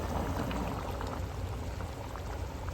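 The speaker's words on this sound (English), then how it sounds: "bring it back up to a boil" A pot of Cajun jambalaya at a rolling boil, a steady dense bubbling and churning that stays close and even throughout with no talking.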